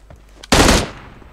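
A single loud, close burst of rapid automatic gunfire from a gun in a video game, lasting about a quarter second before falling back to near silence.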